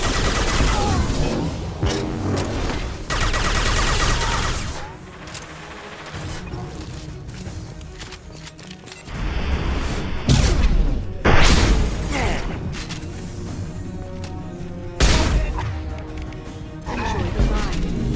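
Mass Effect 2 combat with a flashbang and gunfire: dense bursts of shots and crashing impacts come in waves, with loud blasts and chaotic clatter, mixed with speech-like voices throughout.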